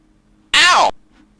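A single short, loud "Ow!" sound effect from a Unity video game, a pained vocal yelp that rises and falls in pitch, over a quiet background hum.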